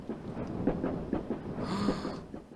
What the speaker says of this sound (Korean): 이 열차는 곧 종점에 도착합니다